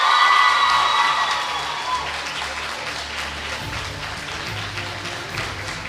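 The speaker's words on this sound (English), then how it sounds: "Can we give a big round of applause to Katie O'Reilly?" A school senior awards audience claps and cheers for a prize winner, a dense, loud wash of applause with whoops that gradually thins out.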